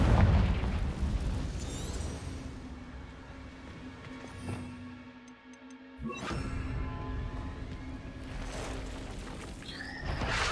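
Confringo explosion spell in Hogwarts Legacy, a loud blast at the start followed by crackling and rumbling, then a sharp second burst midway and a busy stretch of combat effects after it.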